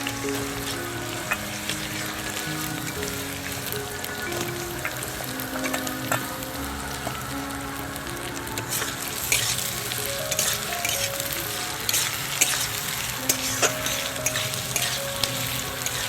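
Chopped onions sizzle and crackle steadily in hot oil for a long stretch, with scattered pops and occasional stirring noises throughout.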